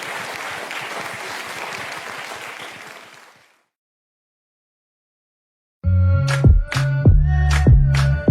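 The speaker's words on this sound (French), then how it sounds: "Ça s'applaudit s'il vous plaît" Audience applause follows a live piano-and-vocal performance; steady clapping fades out after about three seconds, then silence, before loud music begins.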